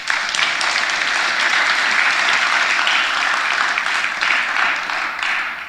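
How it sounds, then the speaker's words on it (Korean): A church congregation applauding a choir, dense sustained clapping from many hands filling the room, loud and even throughout. "박수 한번 쳐드려요."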